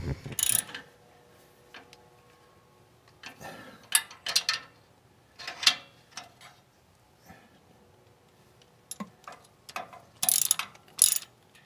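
A ratchet tool tightening an exhaust header bolt on a Porsche 911, with short irregular bursts of close clicking ratchet strokes separated by quiet pauses.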